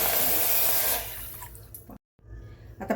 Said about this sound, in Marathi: आता पाणी घातलंय, आपण हे उकळून घेऊया.